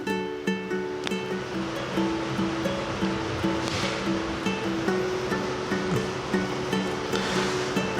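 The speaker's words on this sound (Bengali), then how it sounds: "আমরা আমাদের মশলার সাথে এই পেঁয়াজ কুচি একসাথে দিয়ে একটু নেড়ে চেড়ে ভেজে নেব" Chopped onion stir-fried with spices gives a dense, continuous sizzle with regular soft scraping strokes from stirring, heard close and steady without voices.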